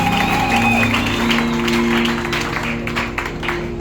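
Audience applauding at a church choir gathering, dense clapping from many hands over sustained musical tones and a held note, continuous and fairly loud before easing slightly toward the end.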